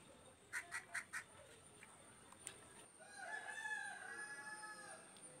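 A rooster crows in a short burst of repeated calls, followed by softer clucking and fowl sounds at moderate distance.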